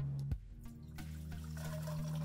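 Tap water running into a bowl of rinsed chickpeas to soak them, a steady pouring and trickling stream close by, with a low hum throughout.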